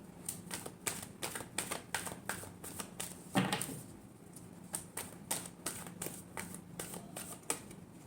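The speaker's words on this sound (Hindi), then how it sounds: "last shuffle" Tarot cards are shuffled in a quick, steady run of crisp riffling clicks and flutters, close and fairly quiet, with one louder slap midway and no talking.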